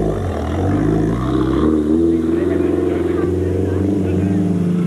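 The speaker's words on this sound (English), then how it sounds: "The Condor eventually fired" The engine of a Toyota Condor rally vehicle fires during the Mmabatho 500 off-road race and settles into a loud, steady running note that rises slightly in pitch, with a voice talking over it.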